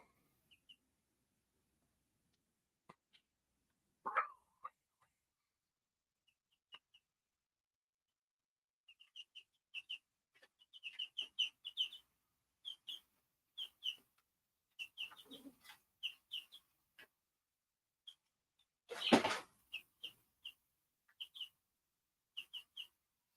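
Chickens in a backyard flock cluck and chirp in scattered short bursts against quiet surroundings, soft and fairly distant. A louder squawk and a couple of other brief noises break in.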